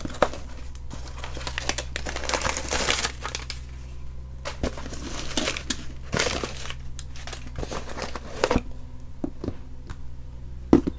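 A mailed parcel is opened and unpacked, with continuous close crinkling and crumpling of packaging, tearing, and occasional knocks and taps over a low background hum.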